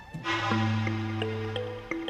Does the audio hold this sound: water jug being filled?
yes